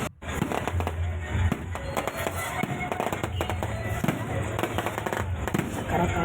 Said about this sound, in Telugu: రకరకాల టపాసులు, రకరకాల సౌండ్స్